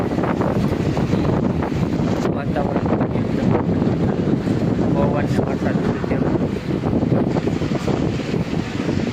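Strong gusting wind just before heavy rain, roaring steadily and loudly across the whole stretch as dense broadband buffeting with no pauses or talk.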